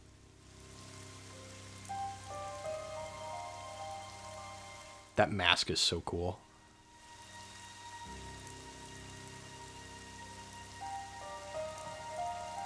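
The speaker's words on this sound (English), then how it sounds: "Very rainy area." Steady rain patters across an area in Xenoblade Chronicles 3, a constant soft wash heard throughout under game music, with a loud burst of sound in the middle and brief speech.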